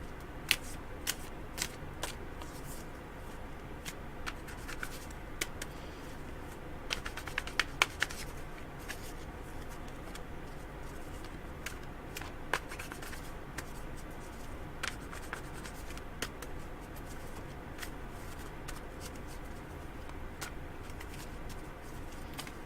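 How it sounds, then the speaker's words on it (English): Tarot cards are shuffled over and over at close range, a soft continuous riffling with scattered sharper flicks and snaps, quiet and without talk. "Shuffling your cards real well."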